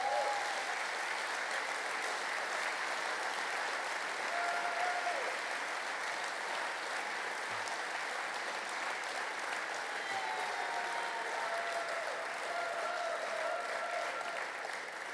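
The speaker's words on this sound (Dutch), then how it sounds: "we gaan tussendoor hard klappen voor een geweldig congrespresidium" Sustained applause from a large crowd at a PvdA party election congress, a dense steady patter of clapping that continues evenly without pause.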